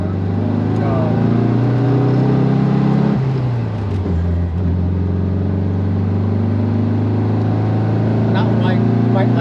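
A 1963 VW Karmann Ghia with a 1295cc flat-four engine pulls hard on a test drive, its loud, buzzing engine note climbing steadily in pitch, dipping at a gear change, then rising again.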